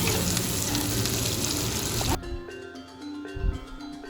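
Tempe with green chili fries in a pan with a loud, steady sizzle while it is stirred; the hiss cuts off partway through, leaving quieter scraping and clinks.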